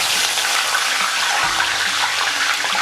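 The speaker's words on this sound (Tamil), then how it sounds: "கடைசியாக நம்ம கருவேப்பிலை பொரிச்சிக்கலாம்." Curry leaves frying in hot oil for a Tamil mixture snack, a loud, steady, close sizzling hiss that runs without pause and with no talking.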